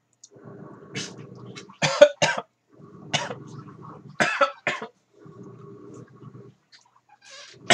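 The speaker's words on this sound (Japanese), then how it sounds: "咳込むんですよ。" Repeated harsh coughing fits from someone eating fiery dandan noodles (Gomaryu Ashura 2nd hell tantanmen), with bursts of throat clearing between them, close up in a quiet room.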